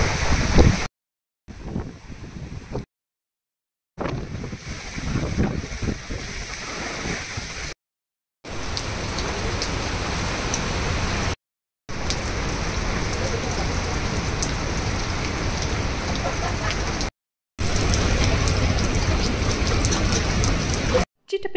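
Steady rain patters on surfaces at a roadside tea stall near Aare Ware beach in Ratnagiri, Maharashtra, a dense continuous hiss with some wind rumble, broken by several brief cuts to silence.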